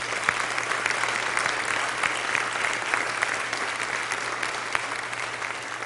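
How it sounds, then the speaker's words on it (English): A church congregation at St. Johns UMC breaks into sustained applause. The clapping is full and continuous, with a few sharper claps standing out near the front over a low steady hum. "Let's give them a round of applause."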